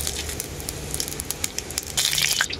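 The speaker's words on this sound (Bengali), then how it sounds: "তেলের মধ্যে দিয়ে দেবো তেজপাতা, শুকনো লঙ্কা আর 5 ফোড়ন।" Bay leaf, dried red chili and five-spice seeds hit hot mustard oil in a kadai, giving a close, loud sizzle full of crackling pops that swells near the end.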